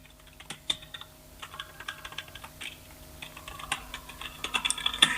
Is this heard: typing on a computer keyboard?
yes